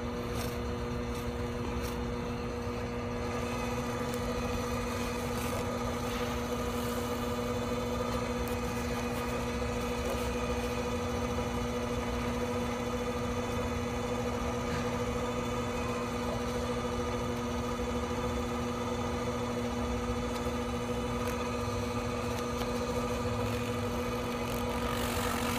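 A continuous mechanical hum and rough buzzing from buffing the piston of an Edgun Matador airgun, steady and fairly loud, with no pauses.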